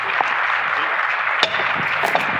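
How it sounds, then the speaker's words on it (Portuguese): Audience applause at a lecture on the oil industry, a steady wash of clapping held at an even level for the whole stretch, with a few sharper claps standing out near the middle and end. "Guilherme de Oliveira Estrela, uma salva de palmas, por gentileza."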